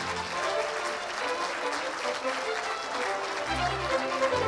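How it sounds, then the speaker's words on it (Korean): Warm applause fills the hall for a violinist receiving a music award, a continuous, evenly loud crowd clapping with a brief low rumble near the end. "바이올리니스트 양인모 씨에게 축하의 박수 뜨겁게 부탁드립니다"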